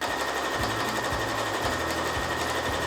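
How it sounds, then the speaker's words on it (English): A sewing machine stitches a quilted patchwork bag in one continuous, close, loud run, with a fast steady needle rhythm throughout. "I'm just going to sew now directly on top of that vertical line that I drew"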